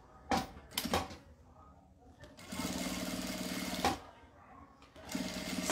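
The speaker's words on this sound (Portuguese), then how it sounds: "aqui eu consigo continuar a minha costura" A sewing machine stitches bias binding onto a fabric makeup pouch, running in close steady bursts of rapid rhythmic whirring, with short pauses and handling noises between runs.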